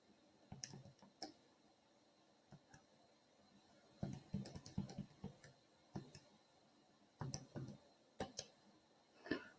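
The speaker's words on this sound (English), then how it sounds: "I'm typing that in my calculator" Sharp plastic clicks of keys pressed on a calculator keypad, coming in quick irregular bursts with short pauses, close to the mic with no talking.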